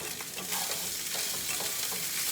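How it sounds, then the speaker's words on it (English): Ground beef sizzles steadily in a hot pan with a constant frying hiss, punctuated by occasional scraping stir strokes, close and alone with no talk. "So while this sizzles,"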